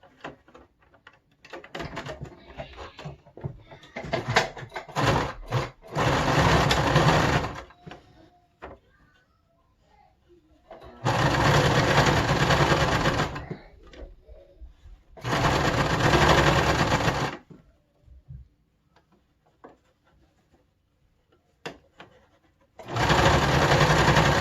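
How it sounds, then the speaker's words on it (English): Domestic sewing machine stitching a fabric face mask near the elastic, running in several loud, steady bursts of a few seconds each, with short pauses and light handling noises between them. "I'm going to start sewing it exactly where I have the first elastic"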